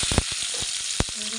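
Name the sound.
taro pieces sizzling as added to hot oil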